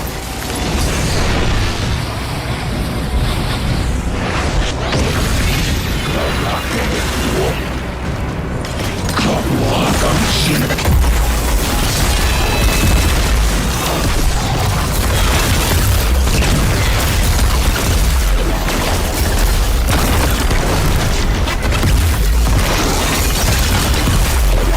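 Grenade blasts in the video game Destiny 2: The Final Shape, a loud, dense wall of booming explosions and crackling debris that rolls on continuously with almost no letup, close and overwhelming.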